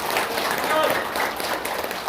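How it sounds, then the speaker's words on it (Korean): A crowd applauding a committee chairman at a rally, a dense, continuous wash of clapping filling the whole moment at steady loudness. "우리 안영길 위원장께 박수를 한번 보내드립니다"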